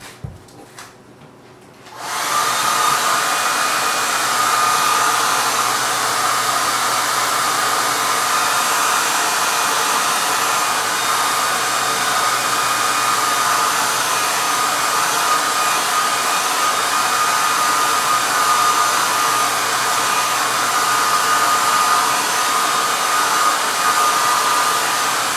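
A hair dryer blows on a watercolour grisaille painting, switching on after a brief quiet moment into a loud, steady, close roar that holds unbroken for over twenty seconds with no voices.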